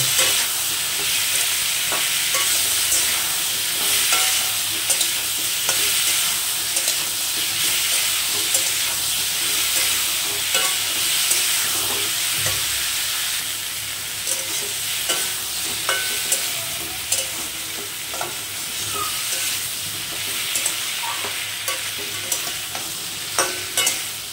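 Ripe cucumber vegetable curry being sautéed in a pan, a continuous bright hiss of frying with repeated scraping and stirring knocks, close and steady for the whole stretch, no one speaking.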